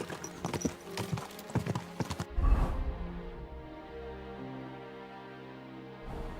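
Galloping horse hooves pound in a fast clip-clop during a race toward a roadside chapel junction in Kingdom Come: Deliverance II, loud and close for the first seconds, then giving way to a softer rumble and a steady ambient hum.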